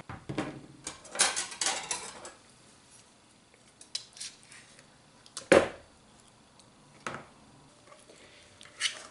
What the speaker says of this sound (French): On va venir fouetter donc le Philadelphia avec les œufs.